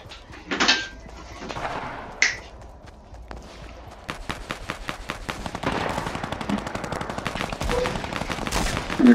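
Rapid bursts of automatic gunfire crackle through Fortnite battle sounds in a 50 vs 50 match, with a few single shots first, then sustained volleys.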